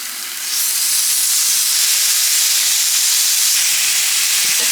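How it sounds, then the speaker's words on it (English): Bacon sizzles loudly in a hot pan, a dense steady hiss of spitting fat that starts abruptly and holds without pause, close and without talk. "so the pan is nice and hot now, so we have the bacon"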